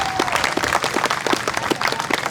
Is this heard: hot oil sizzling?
no